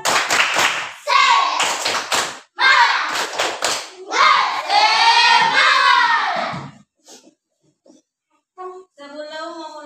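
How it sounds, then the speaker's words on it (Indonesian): Children do a rhythmic spirit clap in a classroom, with bursts of patterned claps between stretches of chanting voices, followed by a pause and some talking. "Tepuk semangat."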